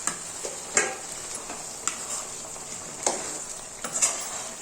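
Ground onion with salt frying in a pan, a steady soft sizzle with scattered scraping stir strokes of a utensil, close and moderately quiet, no voices.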